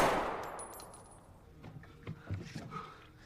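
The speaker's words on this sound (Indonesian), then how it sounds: "Saat Gaspar hendak membacok Tyler, Opi datang menodongkan pistol dan menembaknya" A sharp pistol shot cracks at the start and rings off, followed by scattered clanks and thuds.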